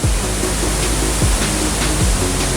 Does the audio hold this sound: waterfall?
yes